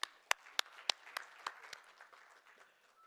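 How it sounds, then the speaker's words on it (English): Audience applause at a poultry industry expo press meet: a handful of sharp, distinct claps at first, then a thinner, softer patter of clapping that fades over about three seconds. "A big applause, please."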